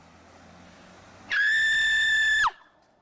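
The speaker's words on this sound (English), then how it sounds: "He is also famous for screaming after getting abandoned at a gas station." A person screams after being abandoned at a gas station, one sustained high-pitched shriek held for about a second against faint background noise before breaking off with a falling tail.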